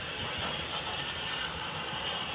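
A Piko BR 216 H0-scale model diesel locomotive with sound pulls a string of passenger coaches along track, giving a steady, continuous low rumble and rolling hum with a faint engine drone, close and even throughout.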